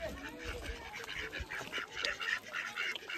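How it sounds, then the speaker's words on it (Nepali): Ducks quack at a pond in Jorepokhari during a community cleanup, with repeated calls over steady outdoor background noise and faint voices. "यहाँ चाहिँ हाँस छ"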